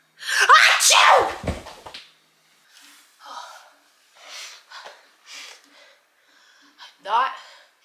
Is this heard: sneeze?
yes